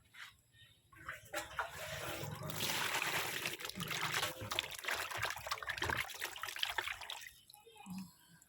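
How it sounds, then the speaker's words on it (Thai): Water pours out of a cooking pot in a steady trickling stream for several seconds in a Thai country-style kitchen, close and moderately loud, tapering off at the end. "นี่เราก็เทน้ำออก น้ำสักสองน้ำก็ได้นะคะ"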